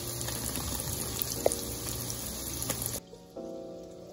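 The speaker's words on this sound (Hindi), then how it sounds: "ऑयल को गर्म करके फिर आपने इसको ना मीडियम पे करना है, तब फ्राई होंगे" Rice balls frying in hot oil over medium heat, a steady soft bubbling and sizzling hiss that cuts off sharply near the end, leaving a faint quieter hum.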